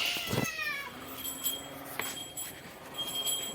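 A single cat meows once near the start, a rising-falling cry, followed by quiet room noise with faint clinks.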